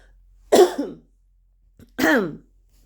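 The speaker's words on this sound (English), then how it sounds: "Cough it out." A person coughs and clears their throat indoors, two close, loud bursts about a second and a half apart, with quiet in between.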